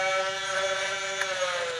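Nerf Rayven blaster with its safeties taped down, running on AA batteries, its flywheel motor revving in a steady high-pitched electric whine that holds nearly constant, close and alone.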